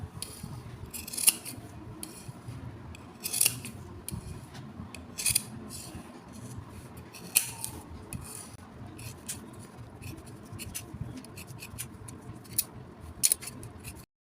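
Sharp scissors snip through fabric to cut a cross piece for a neckline, with crisp, close single cuts recurring every couple of seconds over a quiet background.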